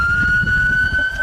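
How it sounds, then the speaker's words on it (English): A steady, high, unwavering 10-minute warning siren sounds loudly over low rumbling noise at a Starship SN5 static fire in Boca Chica, Texas, held without any rise or fall. "That is the 10-minute siren right there."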